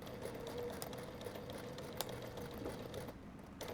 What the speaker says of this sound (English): I stitch from the bottom up to the top, did some reversing about 1 inch from the bag opening to add some strength